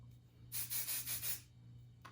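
Five quick hissing bursts from an Aquage texture spray aerosol can sprayed on hair in a rapid rhythm, close by, then a short final puff.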